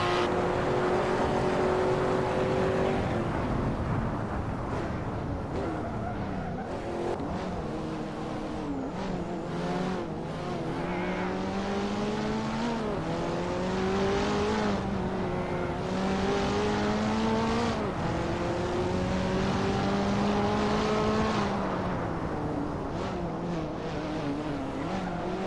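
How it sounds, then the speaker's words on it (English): Race cars in a Hot Wheels video game roar continuously, several engines revving and shifting with rising pitch sweeps, tires squealing as cars corner, loud and steady throughout with no talk. "And I have now passed Beat using my car's quite superior handling."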